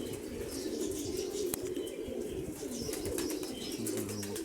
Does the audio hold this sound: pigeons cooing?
yes